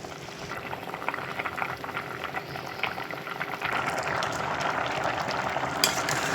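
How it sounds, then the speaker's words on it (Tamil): Water with rice and vegetables at a rolling boil in a pot, a steady dense bubbling and churning that grows slightly fuller partway through, with no voices. "இப்போ கொதி வந்துருச்சு."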